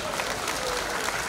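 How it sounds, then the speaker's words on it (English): An audience at a comedy show applauds with dense, continuous clapping throughout the short stretch. "All the men, please applaud yourself."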